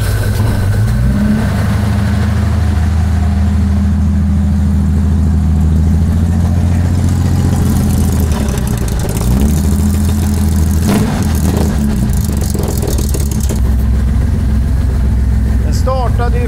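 A carburetted BMW car engine running steadily just after a test start, loud and close, with a continuous idle hum and some slight unevenness as it runs.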